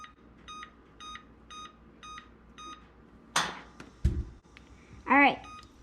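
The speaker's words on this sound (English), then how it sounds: "now we're gonna set a timer for 1 hour and" Kitchen timer beeps in a regular series of short electronic tones while being set for baking banana bread, followed by a louder rustle, a thud and a brief higher chirping sound.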